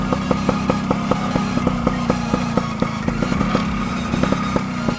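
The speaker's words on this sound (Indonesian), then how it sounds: "kita lanjut naik riding brother, naik Vespa klasik modern" A classic modern Vespa scooter is ridden at night around town, its engine putting out a steady mid-pitched drone with a regular ticking pulse, close and loud, with no talk.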